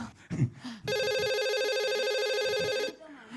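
An incoming call rings on a studio telephone during a televised Islamic call-in show: a steady electronic ring holds loud and unbroken for about two seconds, with brief talk just before it and after it.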